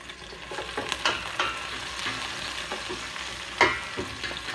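Onions sizzle in a pan for chicken adobo, a continuous frying hiss broken by the clink and scrape of stirring, with one sharper knock toward the end. Close and moderately loud, and no one is talking.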